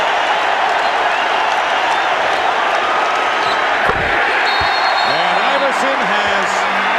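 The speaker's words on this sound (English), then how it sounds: "Standing ovation, and listen to the crowd saluting the Sixers" Arena crowd at a 2001 NBA Eastern Conference semifinal playoff game between the Philadelphia 76ers and Toronto Raptors gives a standing ovation, with sustained loud applause and cheering throughout and a whistle-like tone near the end.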